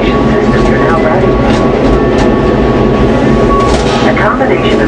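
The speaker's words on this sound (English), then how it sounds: "engineers hired inventor Dick Bowser to create the unique arch transportation system you're now riding." The Gateway Arch tram in St. Louis travels inside the arch with a loud, steady mechanical rumble and hum and faint rattling, while a recorded narrator speaks over it throughout.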